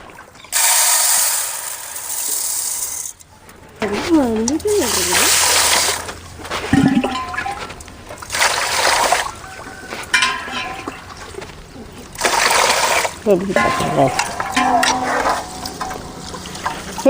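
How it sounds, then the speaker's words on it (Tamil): Raw white rice for thenkuzhal murukku is washed by hand in water, giving repeated close splashing and sloshing bursts with brief pauses. Someone speaks over parts of it. "முறுக்குக்கு முக்காப்படி பச்சரிசி சுத்தம் பண்ணி எடுத்துக்கலாம்"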